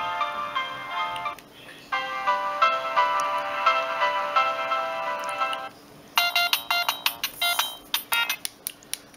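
A Siemens C65 mobile phone plays a polyphonic music ringtone: bright, tinny melodic phrases through the small speaker, a quieter passage then a louder staccato section of clipped repeated notes, alone with no talk.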